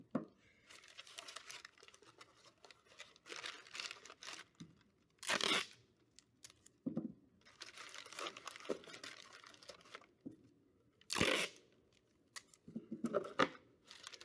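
Sheets of paper crumpled and torn by hand to stuff the head of a cardboard papier-mache model, a string of crinkling bursts and a few louder tearing rips, close up, with no talk.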